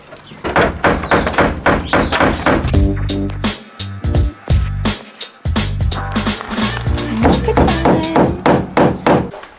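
Rivets being knocked out with a screwdriver while removing a fitted sleeping pod make a rapid series of sharp metallic taps and thuds. The strikes come in bursts, with a brief lull midway.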